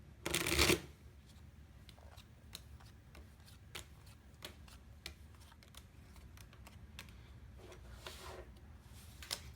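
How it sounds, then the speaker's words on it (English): A quick burst of playing cards being riffle-shuffled for a racing board game, then a steady run of soft card snaps and taps as they are dealt out one by one. "We're going to shuffle and deal all the cards out."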